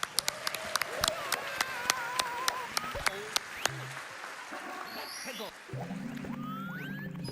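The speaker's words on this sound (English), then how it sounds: "Let's give them a big round of applause." Applause rises from an audience at a live speedrun event, a broad wash of clapping with a few sharp individual claps standing out, while talk continues over it.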